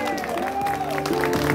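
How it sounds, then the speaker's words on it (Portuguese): Applause for Bianca at a mother's birthday party, a steady patter of clapping mixed with voices and background music throughout a short burst. "Palmas pra Bianca!"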